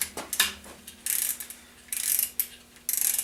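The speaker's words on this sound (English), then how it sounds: "we're going to put our 13 deep socket on" A hand ratchet with a 13 mm deep socket works on an engine case, giving three close bursts of rapid clicking pawl ticks separated by brief pauses and softer metallic clinks.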